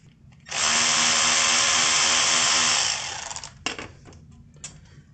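A power tool spins off caliper bracket bolts on a Toyota Prius front brake, one loud close burst of about two and a half seconds, then brief spurts and rattles as it winds down.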